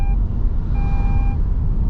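Seatbelt warning chime in a 2022 Toyota Veloz Q TSS, the top trim, sounding as two steady electronic tones: a brief one, then a longer one of about half a second, over a low, constant cabin rumble.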